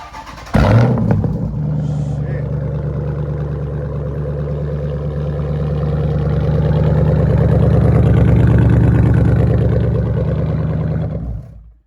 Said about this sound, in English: give y'all this cold start